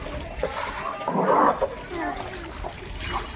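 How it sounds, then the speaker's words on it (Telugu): Water being thrown out of a house flooded by rain, a loud splash and splatter near the middle amid broader sloshing, with people talking throughout. "పడైపో నీళ్ళు."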